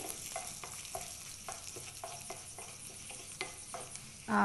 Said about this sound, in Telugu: పది మిరియాలు వేసి బాగా కలుపుకోవాలి